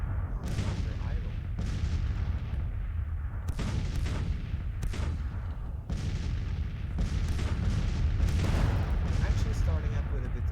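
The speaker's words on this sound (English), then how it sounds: "Actually starting up with a bit of artillery bombardment." Artillery bombardment in the Civil War strategy game Grand Tactician: The Civil War, a steady run of heavy booms and rumbling blasts every second or so, dense and continuous, with a voice talking over it.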